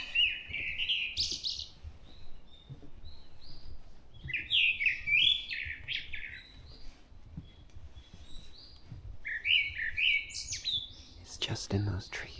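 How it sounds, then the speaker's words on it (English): A thrush sings from trees in a mountain forest on an early morning walk, with three bright, fluty song phrases separated by pauses, fairly close over quiet forest ambience and faint footsteps, with no talk. "Oh, I'm close to that thrush."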